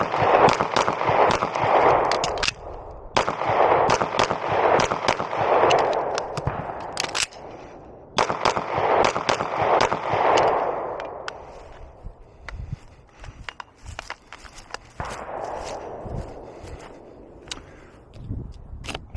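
A Beretta PX4 Compact Carry 2 pistol fitted with a compensator fires in quick strings of sharp, loud cracks, broken by short pauses and noisy handling, with a weaker burst toward the end.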